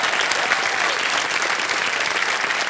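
A studio audience at a televised quiz show applauds in dense, continuous clapping that holds steady and loud throughout, with no clear speech over it.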